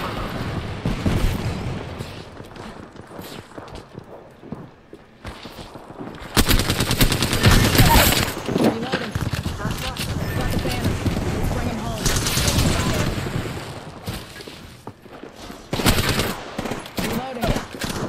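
Rapid automatic gunfire and bursts of shooting from Apex Legends run almost continuously, growing louder and denser midway, with a player's voice talking intermittently over the combat.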